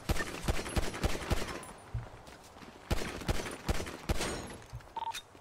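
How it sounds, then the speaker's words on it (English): Scattered gunshots ring out in a GTA V NoPixel roleplay shootout with police outside a hospital, loud irregular bursts and single cracks spread across the moment, with no talking. "I see him, I'm shooting down."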